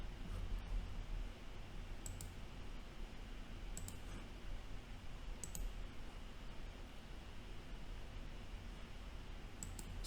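A computer mouse clicks faintly in a quiet room while trading software is used, with about five sharp, isolated clicks at irregular intervals over soft background hiss.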